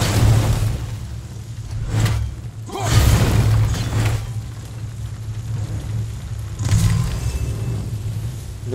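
Explosions in the God of War video game sound as several loud, separate crashing blasts with debris-like noise over a steady low background, with no talk.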